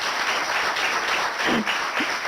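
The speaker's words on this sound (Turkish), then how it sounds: "Alkışlar Denizli'ye gitsin." Studio audience applause during a live Turkish call-in television evening broadcast, a steady wash of clapping carrying through the whole stretch at an even level, with a faint voice briefly surfacing near the end.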